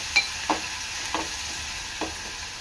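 Chopped onion frying in oil with salt until browned, a soft continuous sizzle with four or five light spatula scrapes spaced about half a second apart, near and without talk.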